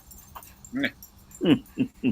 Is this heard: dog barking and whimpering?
yes